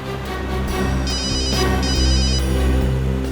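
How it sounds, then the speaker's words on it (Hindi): A telephone rings in repeated electronic bursts over a steady, droning music bed, fairly loud and close. "एसीपी साहब का फोन आ रहा है"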